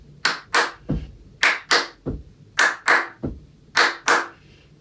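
Hand claps and foot stamps alternate in a brisk rhythm exercise for young pupils. Crisp pairs of close claps are broken up by deeper single stamps, repeating in a steady pattern with no talking.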